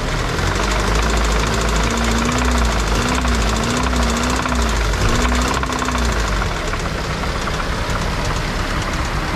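A car engine with a piston and crankshaft fault knocks in a steady metallic clatter while it runs, a grinding rhythmic pounding close up with brief revving swells midway and no talk.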